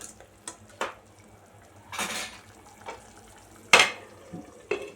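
A utensil scrapes and clinks against a pan in several separate strokes while stirring egg gravy, with a faint sizzle in between and no voices.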